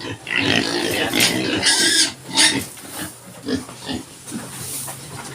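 Pigs grunting and squealing close by, a busy mix of snorts and oinks with short high squeals, continuous throughout with loud bursts.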